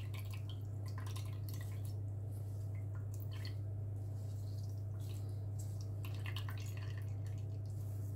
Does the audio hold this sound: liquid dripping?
yes